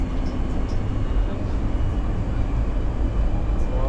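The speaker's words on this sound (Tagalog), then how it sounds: "Yan o, kasalubong tayo ng tren." A train rumbles past on the Riyadh metro near KAFD, a loud, steady broadband roar filling the whole stretch without letup.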